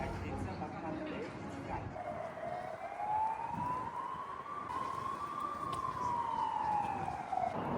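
An emergency vehicle siren passes through a street in Budapest, rising and falling in a long wail that swells close then fades, with a dog barking and a person talking underneath.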